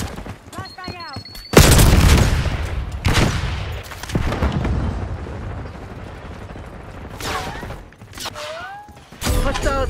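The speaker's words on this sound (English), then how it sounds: "Flashbang out." Black Ops 6 multiplayer combat, where a flashbang grenade goes off with a loud, sustained blast followed by further booms and gunfire bursts, with brief in-game callouts around the explosions.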